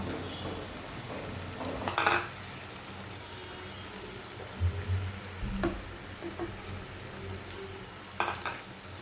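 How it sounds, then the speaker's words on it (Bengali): Eggs fry in a pan for an Afghani egg omelette, a soft steady sizzle and crackle with a few louder spatters and clinks, close and fairly quiet, no talk over it. "এখন ডিমগুলোকে একটা একটা করে ছেড়ে দেব।"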